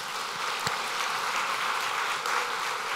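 A church congregation applauds at an ordination service, a dense continuous clapping that fills the room evenly for a few seconds.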